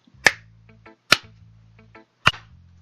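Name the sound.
clapping sound effect in Doki Doki Literature Club video game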